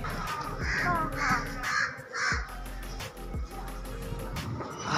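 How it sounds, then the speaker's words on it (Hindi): A crow caws near a house in a run of repeated harsh calls, four or more in quick succession, fairly close and clear over background sounds. "आज कौवा काक रहा है घर में"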